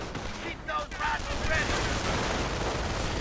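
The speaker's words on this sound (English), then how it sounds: "MG holding things up here, stopping the riflemen." Machine gun fire in the Company of Heroes strategy game, a steady dense rattle of rapid shots amid battlefield noise, with commentary voices running over it throughout.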